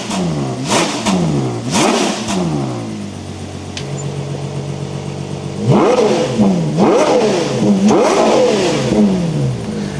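Ferrari Purosangue with a 6.5-litre V12, revved repeatedly: several quick blips up and down, a steady idle hum in between, then a cluster of loud rising-and-falling revs up close.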